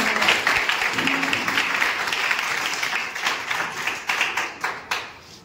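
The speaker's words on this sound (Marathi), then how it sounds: "कृपया त्यांच्यासाठी एकदा जोरदार टाळ्या होऊन" A crowd at a twelfth-grade junior college farewell function breaks into sustained applause for the teachers, loud and dense at first, then thinning into scattered individual claps as it fades out.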